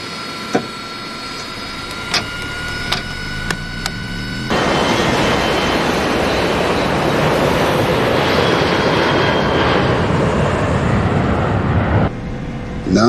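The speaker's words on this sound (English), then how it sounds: "clear for takeoff" Airliner engines spool up to a loud, steady broadband roar for takeoff on US Airways flight 1549 from LaGuardia, after a few sharp clicks, holding strong for several seconds before easing slightly near the end.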